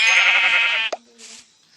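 A sheep in the Minecraft video game gives one loud, close bleat, followed by a brief click and faint game sounds.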